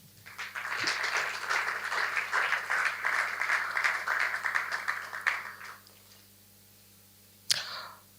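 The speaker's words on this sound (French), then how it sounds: "je demande à ce qu'on applaudisse pour l'ensemble des coachs" An audience at the ELOQUENTIA eloquence contest final applauds the coaches, a dense round of clapping that swells quickly and holds. It fades out near five and a half seconds, leaving a quiet room, and one sharp knock sounds later.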